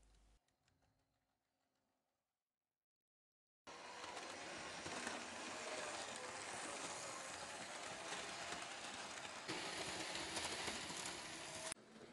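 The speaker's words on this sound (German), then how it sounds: "Ich liebe das Motorengeräusch der Analogloks." An analog model railway locomotive runs on M-track metal rails, a steady close whirring motor hum with rolling rumble. It starts abruptly after a few seconds of near silence and then holds constant loudness, without speech.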